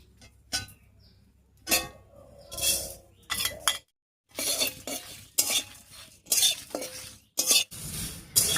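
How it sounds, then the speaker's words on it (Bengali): Dry red chillies and spices being fried and stirred in a pan for a tangy-sweet hog plum pickle, with repeated metal spoon scrapes and clinks against the pan in bursts between short pauses, close and clear. "লঙ্কাটা একটু নাড়িয়ে নিয়েছি, এবারে বাদ বাকি সব মশলাগুলো দিয়ে দিচ্ছি।"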